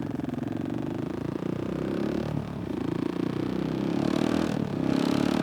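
A motorcycle engine runs steadily close by and shifts gears early at low revs, giving a pulsing, even drone with slight dips in pitch at each change and no talk.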